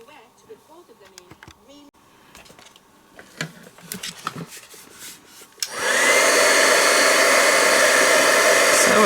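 A heat tool drying ink on a papercraft project at a crafting event roars on loud and steady after a stretch of quiet talking and small rustles, continuing as a constant blowing hiss.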